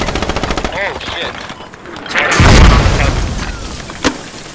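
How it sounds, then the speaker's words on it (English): Heavy gunfire and booming incoming mortar explosions in the military shooter game Squad, rapid bursts building into a loud, close, danger-close blast, with a sharp crack near the end and voice chat layered over the combat. "those mortars on squad one are fucking danger close"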